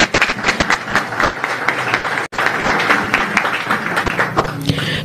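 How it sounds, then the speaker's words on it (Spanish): An audience applauds at a formal community presentation honoring a guest, with dense continuous clapping that briefly drops out for an instant midway before resuming at full strength. "Aplausos."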